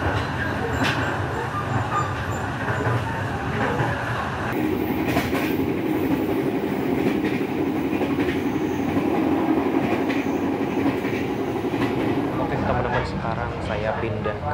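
KA Brawijaya executive-class passenger train on the Jakarta–Malang run at night, wheels rumbling steadily on the rails with a continuous clickety-clack and carriage rattle, murmuring voices faint beneath the roar.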